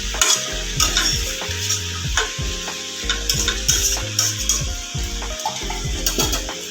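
A spoon stirs pui shak with fish head in a frying pan, producing repeated scraping and clattering strokes in an uneven rhythm over a steady sizzle, close and clear with no talking.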